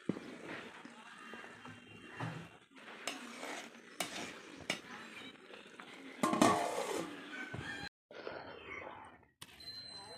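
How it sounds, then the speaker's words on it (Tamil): Chicken biryani rice stirred in a pot, with irregular scraping and metallic clanks of a ladle against the vessel, broken by short pauses and a bright ringing knock. "இப்படி ஒரு 2 நிமிஷத்துக்கு ஒரு தடவை இந்த மாதிரி சாப்பாடை வந்து கிண்டி விட்டுக்கோங்க"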